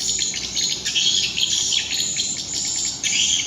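Lots of birds chirp and twitter in a dense, overlapping chorus, high-pitched and continuous, with an insect-like trill underneath.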